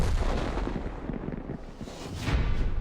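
Heavy artillery fire in World of Tanks booms loud and close, with several deep overlapping blasts and rumbling tails that roll on throughout.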